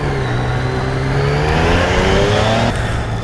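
Yamaha XSR motorcycle on a test ride, its engine revving up smoothly with rising pitch before easing off, loud and close over road and wind noise.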